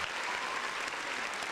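Studio audience applause on a talk podcast, steady close clapping that fills the whole short moment without a break.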